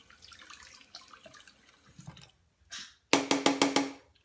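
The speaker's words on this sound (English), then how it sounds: "And give it a rinse." A part of a Veggetti Pro spiralizer is rinsed under a kitchen tap. Soft scrubbing comes first, then short bursts of running water, ending in several loud splashing gushes.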